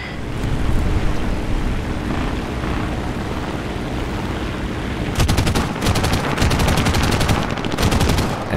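Rapid machine-gun bursts from a video game flight combat match, a steady drone of aircraft engine underneath and sharp fast-repeating firing near the end.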